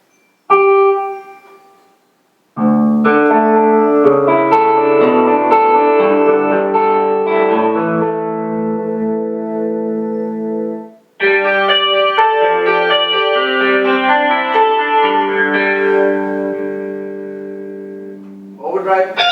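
Keyboard electric guitar tones on a Casio CTX 9000IN play sustained, effect-laden chords in two long phrases with a brief gap between, loud and close with a slightly distorted edge.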